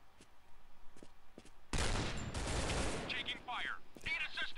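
Rapid bursts of gunfire from the shooter game Point Blank Strike, loud, dense volleys that erupt suddenly after quieter clicks and keep rattling to the end, with a voice talking over parts of it.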